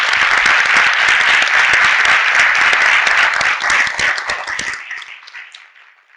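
An audience at a conference on security and squatting in Toledo gives loud, sustained applause, a thick wash of clapping that holds strong for several seconds before thinning out and fading to silence.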